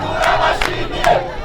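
A crowd at a candidates' gathering applauds and cheers in a brief, loud burst, with rising shouts over steady clapping.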